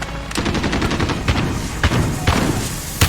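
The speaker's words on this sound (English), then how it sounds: "So this is the Odin, the next assault rifle in the list." Odin assault rifle fire in the video game Call of Duty: Modern Warfare, with dense rapid automatic bursts and several heavier booming shots over about three seconds, loud and close.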